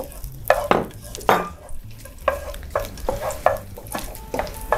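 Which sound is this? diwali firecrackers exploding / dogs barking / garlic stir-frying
garlic stir-frying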